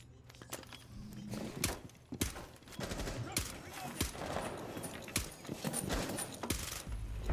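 Rapid bursts of suppressed SMG fire in a tactical shooter video game, muffled clustered shots in irregular volleys over a busy game background, with voices talking faintly underneath.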